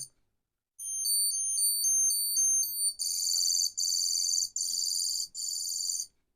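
A Garmin Edge Explore 2 bike computer's anti-theft alarm wails loudly: a rapid warbling beep pattern, then four long, shrill pulsed blasts before it cuts off.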